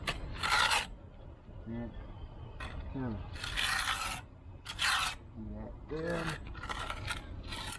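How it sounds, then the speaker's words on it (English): Trowel scraping excess mortar off the back of a cinder block during block laying: several short rasping scrapes in bursts, close up, with someone speaking briefly between them. "you got excess mud on the back of the block, which you can scrape"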